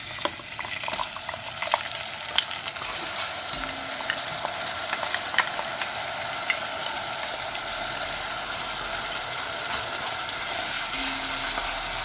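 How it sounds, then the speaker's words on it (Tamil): Ground onion paste sautéing in oil in a pan for chana masala, a constant close sizzle with occasional stirring scrapes, steady and unbroken. "இது நல்லா பச்சை வாசனை போகிற அளவுக்கு நல்லா வதக்கிக்கோங்க"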